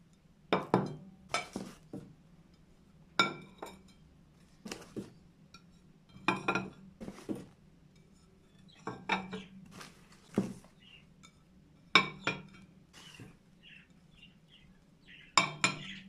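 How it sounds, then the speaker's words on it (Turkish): Porcelain breakfast plates, including 21 cm dessert plates from a 12-piece Benante set, clink against one another as they are unboxed, giving sharp, separate ceramic knocks at an irregular pace with quiet gaps between them. "Daha sonra 6 adet 21 santim ebatlarında pasta tabağı."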